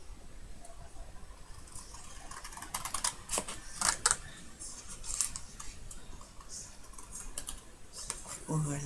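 Scissors snipping the corners of paper or card while making an explosion box craft, several crisp close cuts clustered in the middle, with faint background noise and no clear talking.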